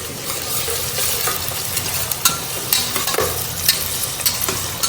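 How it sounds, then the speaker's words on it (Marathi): Onions sauté in a pan for vegetable pulao, a steady close sizzle broken by scraping stirs and light clinks of a spoon against the pan, with no talking. "पुलाव करताना कांदा जास्त लाल नाही करायचा"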